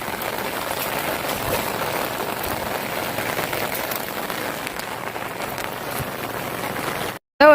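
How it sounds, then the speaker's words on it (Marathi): Constant monsoon downpour in a Konkan farm field drumming on a surface, loud and even throughout, cutting off abruptly near the end. "पाऊस बघा आता सुरू झाला आहे"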